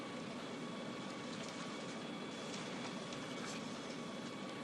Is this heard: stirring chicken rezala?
no